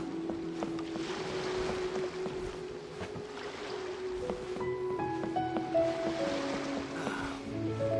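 A boat setting sail across calm open water in the video game Genshin Impact, with a steady wash of water and hull noise running throughout, joined by a few brief higher chimes and tones toward the end.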